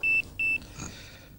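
A fishing rod bite alarm, set up for pike fishing, emits two short, loud electronic beeps in quick succession, followed by faint rustling handling noise.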